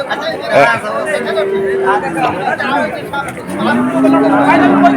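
A young Sahiwal calf at the Molladanga cattle market in Khulna moos twice in long, rising calls, close and loud. Bustling crowd chatter and nearby voices fill the background.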